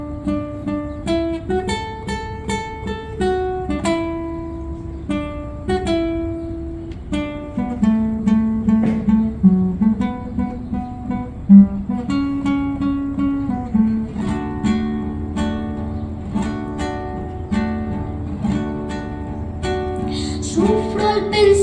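Guarania song, a steady melodic instrumental passage with sustained tones over a rhythmic accompaniment, playing continuously and fairly loud with no voice.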